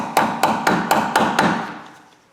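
Six sharp metal hammer taps drive a screw extractor into a drilled bolt on a Ford Ranger, evenly spaced and close, each ringing briefly before the last fades away.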